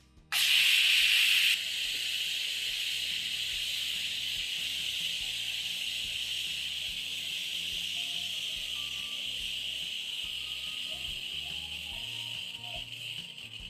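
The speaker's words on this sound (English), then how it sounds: "carefully lift up the valve so that you can remove all the pressure from the cooker" Steam from a pressure cooker valve lifted with a spatula while lamb chops cook: a sharp burst at first, then a loud, steady hiss that runs on continuously with no talking.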